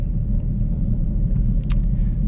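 A 2008 Toyota Prius Grand Touring cruising through city streets, heard from inside as a steady low road rumble and engine drone, with a brief faint higher noise partway through.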